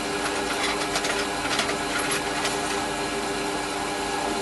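A mini lathe cuts as a tool breaks the leading edge of a turned part, giving a steady, loud machine whine with gritty metallic scraping throughout, close and uninterrupted, with no talk.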